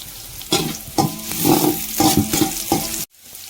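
Curry leaves drop into hot oil already holding crushed garlic and shallots for a fish curry, giving several bursts of crackling sizzle and stirring that end abruptly.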